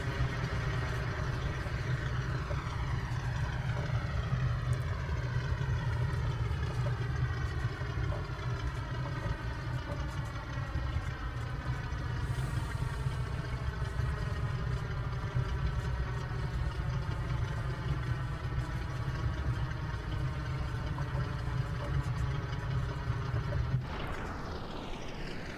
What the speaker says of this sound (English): For better maneuverability, I switch off the two inboard engines.